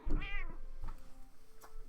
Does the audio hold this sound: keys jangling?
no